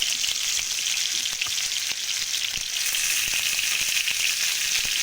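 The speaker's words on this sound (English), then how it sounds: "Then I am going to deep fry Karelas from both the sides." Bitter gourds, karela, frying in hot mustard oil in a shallow pan, a loud, continuous close-up sizzle like steady rain with scattered crackles throughout.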